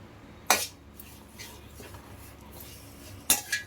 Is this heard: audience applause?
no